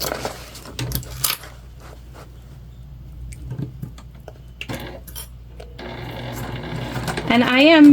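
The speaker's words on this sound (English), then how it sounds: "And I am back stitching." A sewing machine back stitches a fabric backpack organizer, its steady mechanical whir starting partway through and growing louder, ending with a rising motor whine; a voice is heard nearby.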